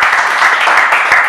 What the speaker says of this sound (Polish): Oklaski dla Klaudka, za darmo.